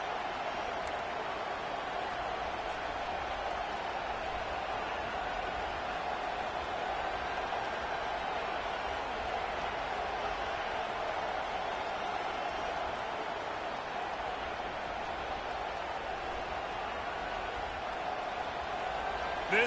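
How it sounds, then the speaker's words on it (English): Steady stadium crowd roar from a College Football 25 video game, a dense continuous wash of cheering that stays even in level for the whole stretch, with no clear talk over it. "This crowd going to try to make life miserable for these guys."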